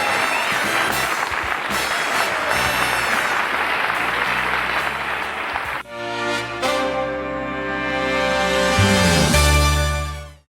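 A studio audience at The Johnny Carson Show breaks into sustained, dense applause with cheering, filling the room loudly before shifting into a band playing and swelling to a close.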